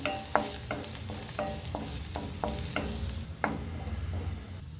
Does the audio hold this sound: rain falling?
no